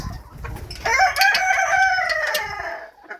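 Hens clucking with a rooster crowing up close in a poultry house, a sustained burst of overlapping calls rising after a quiet start and fading near the end.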